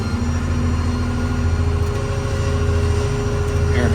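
Steady, loud low drone of a Ford F-550 6.7 diesel engine idling up to run an air compressor on a mechanics crane truck, constant and unbroken throughout.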